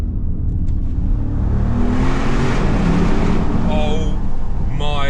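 A 2025 Audi RS Q8 Performance SUV with 640 hp drives through a tunnel, its engine making a loud, continuous deep roar that builds in pitch, with a voice cutting in briefly near the end.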